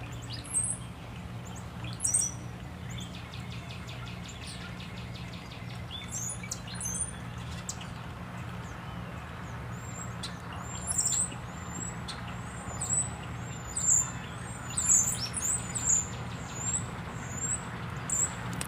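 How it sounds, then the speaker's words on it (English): Many birds chirp and call from a stand of dying bamboo outdoors, with faint, scattered high tweets over a low steady hum of background noise, no one talking. "There's a lot of birds in the bamboo."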